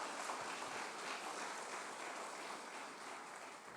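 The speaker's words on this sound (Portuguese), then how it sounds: "Bata as palmas para Ele" A church congregation claps hands together, a dense, steady wash of applause holding at even loudness throughout with no voices standing out.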